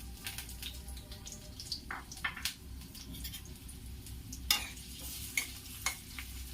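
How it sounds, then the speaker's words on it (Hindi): Onions frying in hot oil in a pan for an Afghani egg curry, alongside poppy seeds and cashews, a steady close sizzle with occasional stirring scrapes and clicks, no talking. "तेल गर्म हो चुका है, इसमें मैं प्याज डालूंगी"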